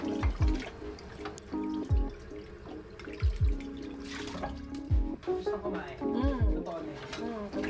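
Dishes washed by hand in a Singapore kitchen under a thin stream of tap water, kept low to save water; drips, splashes and soft clinks come and go close by while a person talks.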